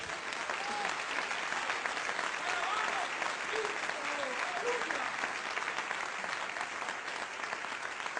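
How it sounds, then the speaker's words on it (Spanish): Sustained congregational applause fills a church service, a dense, steady wash of many hands clapping at an even level throughout, with a few faint voices and cheers mixed underneath. "Dele un aplauso al Señor."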